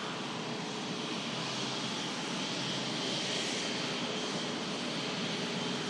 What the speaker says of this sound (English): And now another stunning aircraft. To breathe in is this Cathay Pacific Airbus A350.